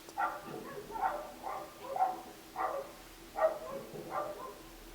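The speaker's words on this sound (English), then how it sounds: "And there goes those dogs." Dogs bark faintly from a distance, a string of muffled barks spaced about half a second apart, with no talking.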